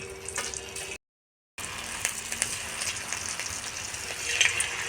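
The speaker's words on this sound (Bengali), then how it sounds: "তেলটা গরম হয়েছে এলা আমি রিলসগুলো ভাজি নিই" Homemade snack rings frying in hot oil, a continuous bubbling hiss with scattered crackles and pops, briefly cut by a moment of silence, no talk.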